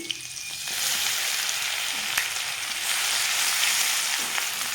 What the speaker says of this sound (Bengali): তো আদাটাকে আমি ভেজে নেব প্রথমে আর দিয়ে দিব এখানে